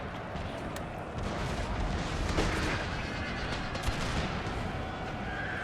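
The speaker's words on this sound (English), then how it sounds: "the enemy is firing back at us. So it's time for us to return fire" Crackling musket volleys and scattered gunfire in a Thirty Years War era battle in a strategy game, a continuous noisy din of shots with some horse whinnies mixed in, moderately loud and sustained.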